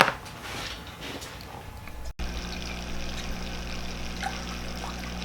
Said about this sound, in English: let's throw this guy in a swim tank and check it out